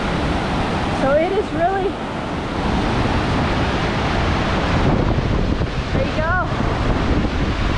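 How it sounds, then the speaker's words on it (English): Hermit Rapids, a river rushing over boulders, roars as continuous loud whitewater close by, with gusty wind on the microphone, a few bird chirps and someone speaking briefly over it. "Get you a view of these rapids."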